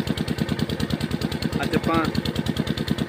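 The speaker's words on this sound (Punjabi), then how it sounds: "ਇੰਜਨ ਚੱਲਦਾ ਸਵੇਰ ਦਾ, ਪਾਣੀ ਕਣਕ ਨੂੰ ਲੱਗਦਾ ਸੀ ਚੱਲਦਾ" A farm engine runs steadily in wheat fields for irrigation, chugging in a fast, even pulse close by, while someone speaks briefly over it.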